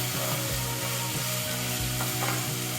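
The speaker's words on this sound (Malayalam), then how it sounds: "നമ്മുടെ സവാളയും കറിവേപ്പിലയും ഇഞ്ചിയും വെളുത്തുള്ളി പച്ചമുളക് തേങ്ങാക്കൊത്ത് ഇതെല്ലാം ചേർത്തിട്ട് നന്നാക്കി ഒന്ന് വഴറ്റിയെടുക്കുക" Onion, curry leaves, ginger, garlic, green chili and coconut pieces sauté in a hot pan, giving a loud, continuous sizzle with a steady rhythm of scraping stirs throughout.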